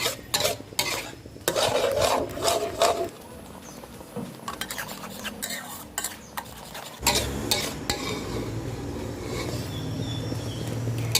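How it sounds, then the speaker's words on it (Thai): Thickened tapioca-starch sauce stirred in a pan for oyster-sauce kale, with repeated spoon scrapes and clinks against the bottom over a soft sizzle, close and busy, then a steadier bubbling hiss toward the end. "นี่ระวังติดก้นค่ะ คนให้ถึงก้นไปเลยนะคะ"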